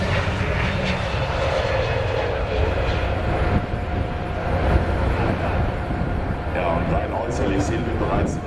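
Airbus A320neo jet engines at an air show, a steady, loud broadband roar with a faint tonal whine running continuously throughout.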